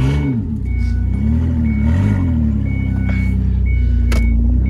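A Ford Escape engine idles after the transmission is shifted into drive, a loud, close, steady low rumble with a faint whine above it and slight wavering in pitch.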